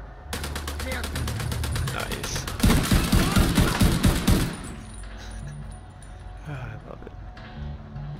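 An M60 machine gun fires in The Division 2: dense, rapid automatic bursts, loud and close, building to heavier, booming shots before fading into ambient game noise.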